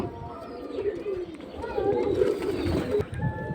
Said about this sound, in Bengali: মাশাআল্লাহ, ছটফটা কবুতর